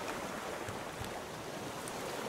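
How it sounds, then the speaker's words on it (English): In the survival video game Raft, ocean waves make a constant, dense wash of surf that fills the whole moment with a steady roar, no voices heard. "Why did the waves get so loud all of a sudden?"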